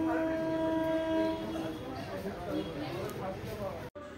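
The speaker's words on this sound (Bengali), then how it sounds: "এই যে ট্রেন ঢুকছে, এতে আমরা যাব।" A Krishnanagar local train pulling into a station, rolling rumble with a sustained horn tone at first, heard under people talking nearby.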